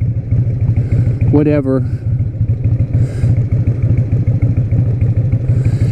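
Harley-Davidson Sportster 1200 ridden on a hot day, its V-twin engine pulsing in a steady loud rumble throughout. A brief voice is heard over the engine noise.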